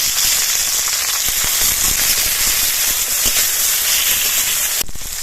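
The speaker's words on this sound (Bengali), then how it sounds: "এবার টমেটোগুলো আলাদা করে ভেজে নেব" Tomatoes fry in a hot pan while a vegetarian khichuri is being cooked, giving a loud, close, continuous sizzle with frequent crackling pops. The sizzle briefly cuts off near the end.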